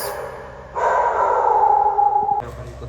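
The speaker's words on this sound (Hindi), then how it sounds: "कुत्ते लोग भौंक रहे." Dogs in a residential parking area give a drawn-out, whining bark-like call that holds steady for over a second and then cuts off, fairly close and loud against quiet background noise.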